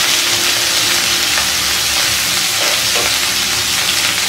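Dry aloo gobhi, potato and cauliflower, being stirred in a pan, a loud, dense, continuous sizzle with light scraping strokes from the spoon, close up and steady throughout.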